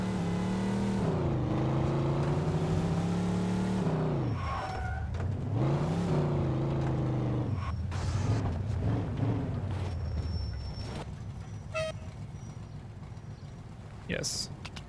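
A car engine in the Mafia 2 video game revs hard with rising and falling harmonic pitch, loud and sustained throughout, a brief skid and clatter near the end, with voices talking over it.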